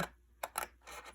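Scissors trimming a paper album cover along a score line, a few quiet, close snips and rasping cuts in quick succession.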